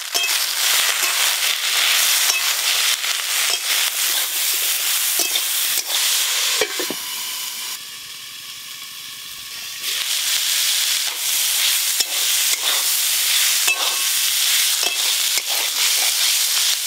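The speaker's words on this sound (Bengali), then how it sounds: "সর্ষের তেল, কেটে ধুয়ে রাখা চিচিঙে দিয়ে দেব।" Sliced snake gourd frying in hot mustard oil, a loud, steady close sizzle and hiss that dips briefly midway before surging back, with faint stirring clatter.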